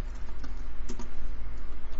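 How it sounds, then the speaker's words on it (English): Rapid computer keyboard typing during Java programming, a steady run of close, crisp key clicks with no voices. "I'm pressing the wrong key on my keyboard."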